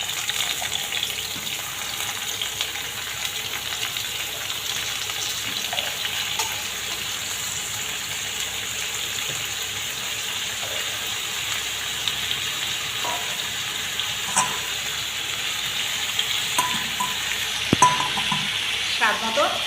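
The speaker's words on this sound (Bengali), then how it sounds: "এখন সবজিটা দিলাম।" Chopped ridge gourd sizzles steadily in a pan of fried onions, a continuous bright frying hiss with occasional scrapes and clicks of a spoon stirring, close and fairly loud throughout.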